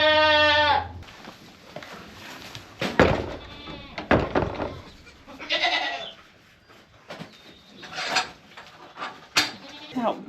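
Goats on a farm give loud, close bleats, one long wavering cry at the start and then several shorter calls, mixed with scuffling and rustling in the pen.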